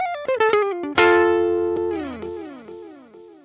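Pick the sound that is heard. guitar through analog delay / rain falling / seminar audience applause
guitar through analog delay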